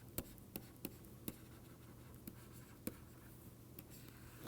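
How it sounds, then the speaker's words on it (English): Pen strokes scratching on paper as a lecturer writes out a math example by hand, a series of short soft scratches and taps spaced irregularly over a quiet room hum. "let me write one example"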